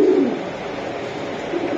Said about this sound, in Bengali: এটা ভাই এটা ব্ল্যাক রেসার একটা নর কবুতর।